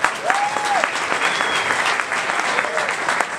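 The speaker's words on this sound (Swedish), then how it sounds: "En applåd för den, jag tror." Audience applause at a Swedish kickoff gathering, steady broadband clapping from a crowd that holds through the whole stretch, with a faint whistle or voice rising above it.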